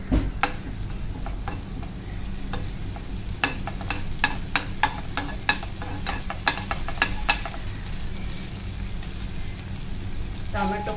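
Onion, green chilli and curry leaves sautéing in a pan for a breakfast dish: a steady crackling sizzle under a low rumbling background, punctuated by a run of sharp spatula scrapes and clicks, close and fairly loud.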